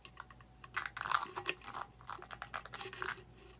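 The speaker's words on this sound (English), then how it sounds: "So I'm going to put masking tape on the inside of the cup." Masking tape pressed and smoothed inside a 20oz tumbler makes quiet, close crinkling and ticking sounds in quick irregular bursts, with no talk.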